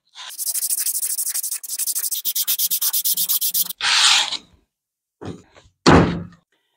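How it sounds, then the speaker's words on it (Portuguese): Sandpaper rubbed across the outside of a wooden whisky box part in quick, steady back-and-forth strokes, loud and close, followed by a few hollow wooden thunks and knocks. "vou lixar agora essa parte aqui de fora"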